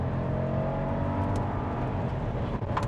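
Ford Focus pulling hard from a launch, a steady loud engine drone and whir from inside the car as it builds speed, with no voices.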